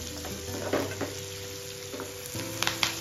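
Onions frying in a pan until golden brown and soft for a mixed vegetable kofta dish, a steady close sizzle with occasional stirring scrapes and light clinks of utensils against the pan.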